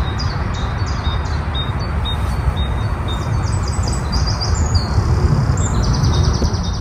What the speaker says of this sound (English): Just kind of standing in the woods and listening to the birds sing